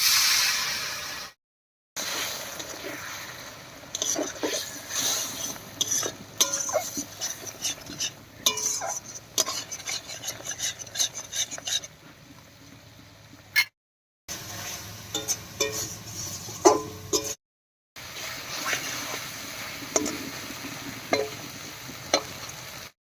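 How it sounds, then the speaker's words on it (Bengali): Spice paste and water frying and being stirred in a pan for a prawn and pointed gourd curry, steady close sizzle with repeated scraping and clinking of a utensil against the pan, broken by a few short silent gaps. "এবারে মশলা বাটা জল দিয়ে কষিয়ে নেব।"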